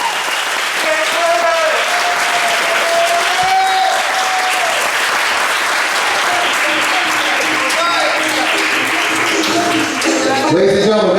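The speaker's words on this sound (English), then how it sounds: "Ladies and gentlemen, one more round of applause for the John F. Kennedy class of" A crowd at the John F. Kennedy moving-up ceremony for the class of 2021 gives loud, sustained applause, dense clapping filling the space, with cheers and a whistle rising over it and voices mixed in.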